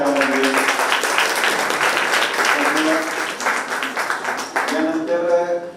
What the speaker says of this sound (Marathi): सर्वांनी जोरदार टाळ्या वाजवल्या.